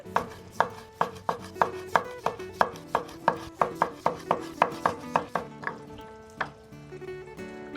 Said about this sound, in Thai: หั่นมะเขือเทศ